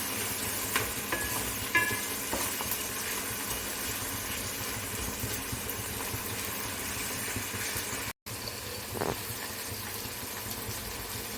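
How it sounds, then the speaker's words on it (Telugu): Tomatoes and onions cook in a pan as the base for a fish curry, giving a steady, soft sizzle and frying hiss with a faint background hum and no talking. "టమాటా ఉల్లిపాయ మగ్గిందండి"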